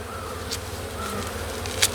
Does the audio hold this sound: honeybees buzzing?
yes